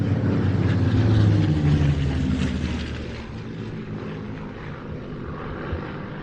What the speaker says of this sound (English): Lee Proudfoot flying the Mark 11